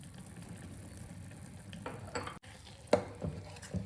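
Fenugreek powder being stirred into ginger thokku in a kadai, a soft, steady scraping with a faint background sizzle and a couple of brief louder scrapes near the end, with no voices.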